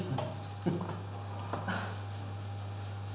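Kitchen stirring with a light sizzle of something cooking, heard as a few soft scrapes and clinks over a steady low hum, fairly quiet and without talk.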